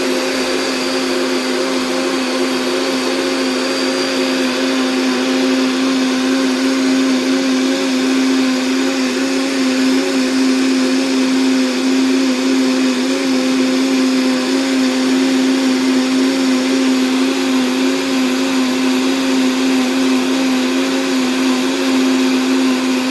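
A blender whirs steadily through a licorice ice cream mixture, a loud, continuous motor drone with a strong steady hum that holds unbroken from start to finish, with no talking.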